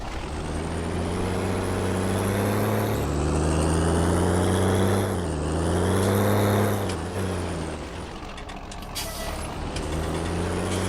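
A heavy diesel tractor engine in Farming Simulator 19, a Fiatagri tractor, drones steadily, its pitch rising and falling as it revs, loud and close with no voices.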